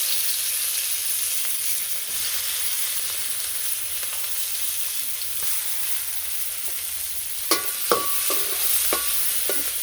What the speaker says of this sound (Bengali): তো এর মধ্যে পেঁয়াজগুলো ভেজে নেব আগে।